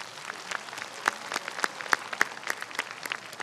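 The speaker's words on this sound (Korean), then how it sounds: "큰 박수로 환영해 주시기 바랍니다." Crowd at a Silla cultural festival ceremony in Gyeongju applauding to welcome arriving dignitaries, a steady spread of clapping with sharper individual claps standing out, moderately loud and without speech.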